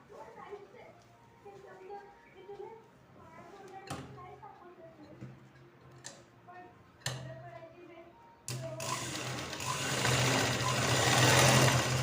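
Sewing machine stitching tucks on the top of a one-piece dress made from a saree. Someone talks over faint background noise at first, then the machine starts and runs loud and steady to the end.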